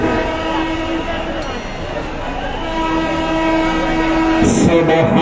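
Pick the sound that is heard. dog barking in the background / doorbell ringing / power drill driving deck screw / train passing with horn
train passing with horn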